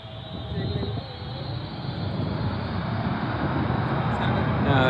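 Two K-8 jet trainers on the runway spool up their engines before takeoff, a broad roar that swells steadily louder and closer over several seconds.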